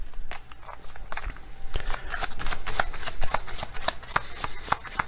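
Oracle cards are shuffled by hand in a steady run of crisp, close riffling snaps and soft slaps that continue throughout, with no speech over them.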